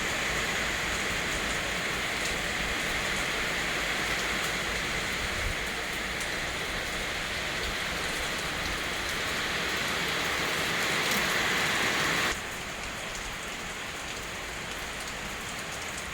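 Steady, dense rainfall patters on surfaces nearby, a constant hiss that drops slightly in intensity near the end; no voices.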